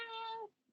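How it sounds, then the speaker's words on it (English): A pet cat meows close to a microphone, one clear, drawn-out, tonal meow that fades quickly, with no voices over it. "He's just meowing into the microphone."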